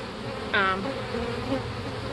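Honeybees buzzing steadily from a large, crowded hive opened for inspection, with a brief louder burst as a bee passes close before the hum settles back to a low background drone.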